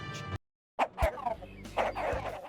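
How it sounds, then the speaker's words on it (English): Chickens in the video game Shrek 2, a few loud squawking, gobbling clucks in short bursts after a brief silence, close and clear. "We need to round up the chickens."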